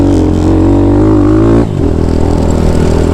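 An air-cooled Thumpstar TSX140 dirt bike engine revs loud and close, holding a steady rasping drone before the pitch drops sharply and settles back to a rough idle-like rumble.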